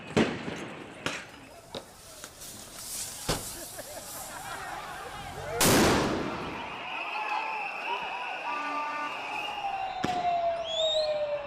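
Sharp cracks of gunfire ring out during street protests in Nairobi, several sudden bangs spread irregularly across the scene, one heavy burst among them, with sirens wailing and a loud, chaotic crowd around.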